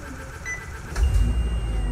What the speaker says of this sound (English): This bus sounds no different than 632